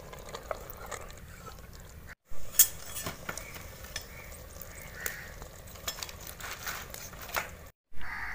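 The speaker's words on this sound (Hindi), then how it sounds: "इन चनों को भून लेते हैं।" Boiled chickpeas roasted with other ingredients in a pan for five minutes, a steady run of scraping and clinking from a utensil against the pan, close and fairly busy throughout.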